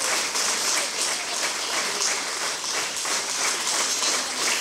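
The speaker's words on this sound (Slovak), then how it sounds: "Veľký potlesk za ich krásne koľady v krásnom prevedeniu" Audience at a Christmas carol concert claps steadily, a dense continuous applause filling the hall from start to finish without pause.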